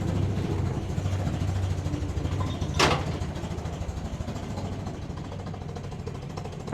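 A Land Rover Series 2a station wagon engine ticks over at idle while warming up, with a steady low rumble and chug from an exhaust behind the mud flap, plus one brief sharp click partway through.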